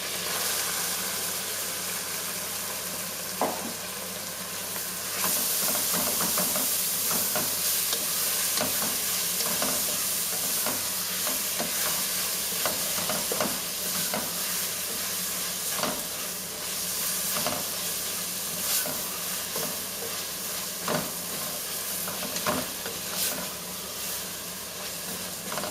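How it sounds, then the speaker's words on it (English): Two medium onions cook in a pot over anchovy and garlic paste for Sicilian seafood chowder, giving a steady close sizzle with frequent scraping stir clicks and occasional sharper crackles throughout. "We'll just give the onions a few minutes to cook"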